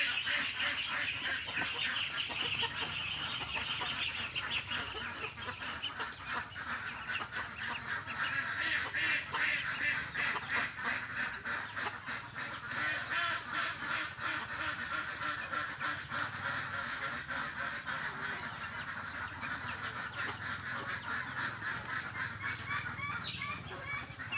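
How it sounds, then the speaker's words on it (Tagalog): A month-old brood of itik ducklings quacking at feeding time, a dense, continuous chorus of many close birds calling over each other without pause. "Papakain na po tayo sa ating mga sisiw ng itik."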